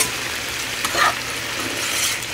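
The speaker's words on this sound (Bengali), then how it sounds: "বিনস আর আলু ভাজা করে নেবো।" Beans and potatoes frying in a pan with salt and turmeric, a soft continuous sizzle with a couple of brief stirring scrapes, close and quiet, without talking.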